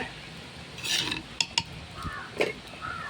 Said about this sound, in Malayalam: പതുക്കെ ഒന്ന് സ്പൂണിട്ട് ഇളക്കി കൊടുക്കാം.